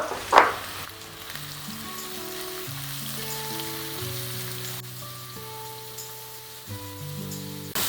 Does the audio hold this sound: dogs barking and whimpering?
no